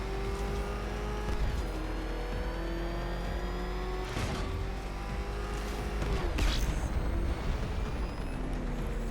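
Batmobile engine in Batman: Arkham Knight racing at high revs, a loud continuous roar with shifting pitch and two sharp surging bursts as the car accelerates, with no talking over it.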